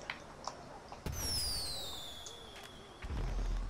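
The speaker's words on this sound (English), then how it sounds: "Guys, shoot your firework launcher up in the sky." Fireworks from a firework launcher in the video game GTA 5 Online go off, a sharp bang followed by a long descending whistle trailing away, with smaller pops before it and another burst near the end.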